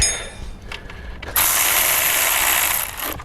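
A ratchet threads a bolt in by hand during a cam phaser swap, its clicking pawl giving a steady, close, fairly loud buzz for nearly two seconds before stopping, with quieter mechanical handling before it.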